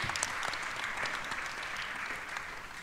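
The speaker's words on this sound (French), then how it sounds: "Oui, vous pouvez les applaudir." An audience applauding guests at a French debate on ecological transition and social justice, a dense, even patter of many hands at a fairly low level, without talk.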